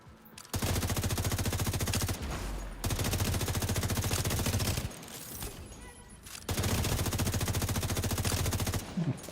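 An automatic rifle firing at 850 rounds per minute in The Division, loud sustained bursts of rapid, evenly spaced shots separated by brief pauses, heard without talk over them.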